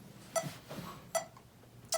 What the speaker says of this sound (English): So you have your metronome,